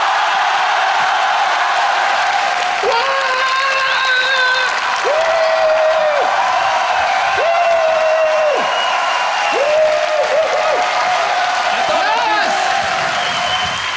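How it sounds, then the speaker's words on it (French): A crowd applauds for Marcus at Japan Expo 2010, steady clapping that runs throughout, mixed with sustained tonal music and a few whistle-like sweeps. "Tonnerre d'applaudissements pour Marcus."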